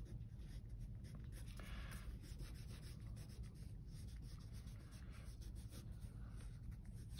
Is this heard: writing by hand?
yes